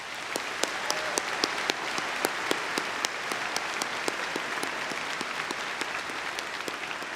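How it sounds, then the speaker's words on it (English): Sustained applause from a large audience in an arena at the Port Huron Northern High School Class of 2024 commencement, a steady wash of clapping with scattered sharper individual claps standing out throughout. "Please give these dedicated individuals a round of applause."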